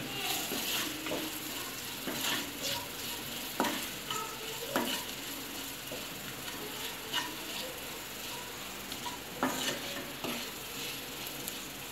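Masala for an egg pepper fry sizzles steadily in a pan while a spoon stirs it, close and continuous frying hiss broken by repeated scraping clicks and taps of the utensil against the pan.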